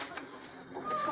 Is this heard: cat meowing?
no